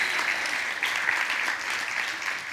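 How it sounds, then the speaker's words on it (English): A summit audience gives a steady round of applause, even clapping throughout at a moderate level with no talk over it. "And yes, please, round of applause for Terry and Lauren."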